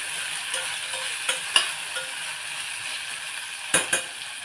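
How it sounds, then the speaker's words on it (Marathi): Brinjal and mixed vegetables sauté in a pan for masala bhat with a steady close sizzle, broken by a few sharp scrapes and taps of the spatula against the pan. "एक दोन मिनटं आपण परतून देऊया"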